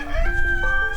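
Chickens call in a short, loud, close burst, a drawn-out tonal cry from the flock kept in a high tunnel pasture setup, with a low rumble beneath.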